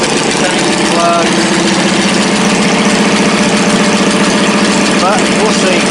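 An engine idles steadily in a garage setting with a car being prepared for a show, a continuous low rumble running throughout with a brief chirping sound midway and near the end.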